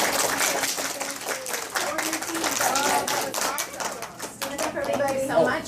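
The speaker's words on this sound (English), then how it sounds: "Let's clap for our" Elementary school children at a career day clap together, an uneven, lively patter of small hands with some louder individual claps, while an adult voice speaks over it.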